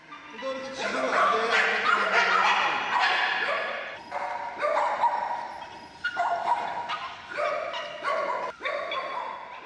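Small dogs held at a shelter for captured stray dogs bark and yip repeatedly, with whimpers in between, loud and close, in choppy bursts while people talk.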